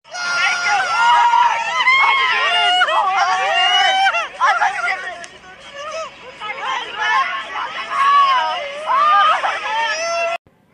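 Boxing arena crowd unhappy after the fight decision in Marlon Tapales's title win, a loud, dense roar of shouting, jeering voices and babble that fills the whole stretch, dipping briefly midway before surging again.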